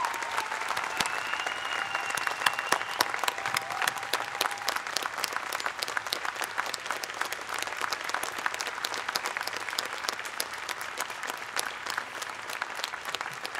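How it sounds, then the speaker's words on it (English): Sustained audience applause at a college commencement ceremony, a dense steady wash of many hands clapping at even loudness for the whole stretch with no talk over it. "would you please join me in a round of applause"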